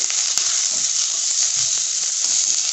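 Chopped onion with a pinch of salt hits hot oil in a pan after the garlic has browned, giving a loud, steady sizzle with a few light stirring clicks.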